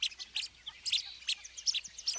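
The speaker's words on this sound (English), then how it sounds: "We've got the blue-winged teal, which makes a soft pip," Blue-winged teal giving soft, high pip calls, a series of about eight short chirps in irregular rhythm, close and fairly clear over a quiet background.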